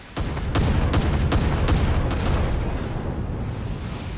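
Japanese warship guns fire in War Thunder, a rapid volley of about six loud, heavy booms in quick succession, followed by a rolling rumble that lingers after the shots.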